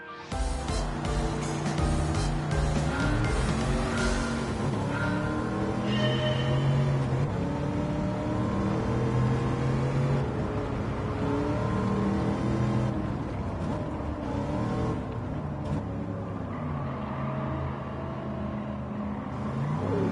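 A race car engine in Gran Turismo 7 roars continuously at high revs, climbing and dropping through gear changes for the whole stretch, loud and alone with no voices.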